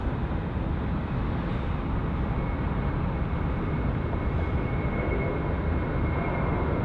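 Jetstar airliner departing Sydney Airport, a continuous broad jet roar heard from a distance, steady and loud throughout with no talking.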